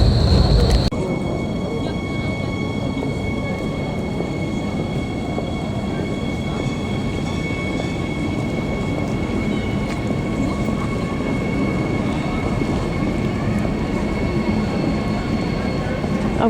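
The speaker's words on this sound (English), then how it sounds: "there's trains going over trains" A train passes through Alexanderplatz station in Berlin with a steady, loud rumble of wheels on rails and a high metallic whine sustained throughout, without pause.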